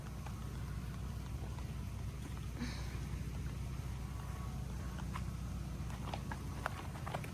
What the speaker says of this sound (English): And the generator's still going.